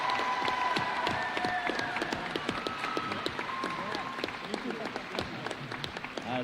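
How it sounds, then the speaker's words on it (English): A school awards assembly crowd claps and cheers, with loud, close hand claps over a broad roar of applause, a few whoops, and voices mixed in throughout. "So let's give a round of applause for Isaac."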